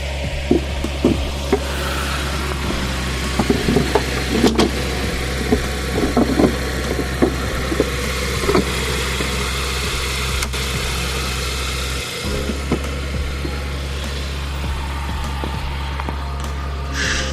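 A car engine idles steadily after a jump start, its low even hum running continuously throughout, with faint clicks and small knocks around it and no voices.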